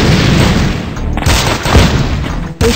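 Grenade explosions in the 2D shooter game Gun Mayhem, loud booming blasts in quick succession with abrupt cutoffs and brief gaps, no talking.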